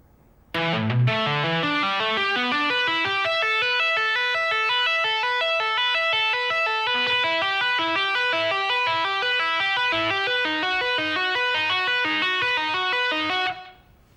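A fast electric guitar funk rock tapping lick with distortion, cascading rapid repeating notes in a steady stream for about twelve seconds, then stopping abruptly.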